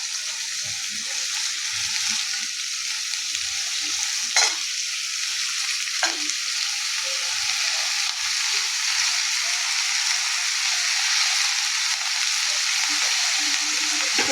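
Washed vegetables tossed into a hot pan, frying and sizzling: a continuous loud hiss with a couple of sharp clinks of stirring, steady throughout and up close.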